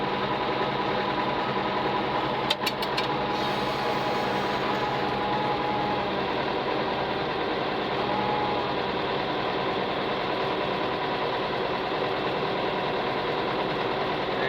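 A lawn mower engine running with air in its fuel lines, surging and rumbling steadily close by, with a brief rattling clatter early on and no speech.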